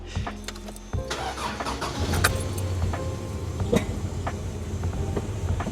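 A 1986 Toyota 4Runner engine cranks and catches, a brief starter whir followed by a steady low idle that runs on close to the microphone, with light clinks and rattles scattered over it.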